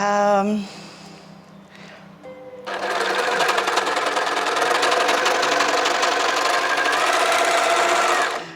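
An overlocker serger starts up after a brief quiet moment and runs continuously, a loud, close, rapid mechanical whirring with a steady chattering rhythm that holds until the end.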